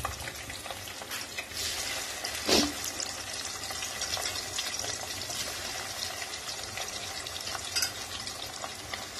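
Cauliflower fries in hot oil with a continuous, dense bubbling sizzle at close range, steady throughout with a couple of brief louder spatters.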